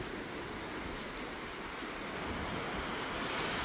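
Ocean surf at high tide on Cabongaoan Beach in Burgos, Pangasinan, a steady loud wash of waves with wind rumble, continuous and close, with no voices.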